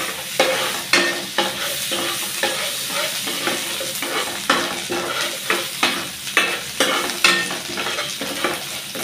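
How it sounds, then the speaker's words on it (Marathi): Ginger garlic paste frying in a pan for butter chicken, a constant sizzle punctuated by rhythmic, regular scraping stirs of a spoon, close and clear, with no voices. "आता मी ह्याच्यामध्ये अद्रक लसूणची पेस्ट टाकून घेत आहे"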